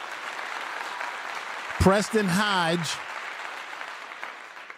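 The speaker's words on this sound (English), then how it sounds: "Let's give them a clap." A crowd applauds at a Colorado football post-game press event after a big win over Cincinnati, a steady hiss of clapping throughout, with a voice speaking briefly over it midway.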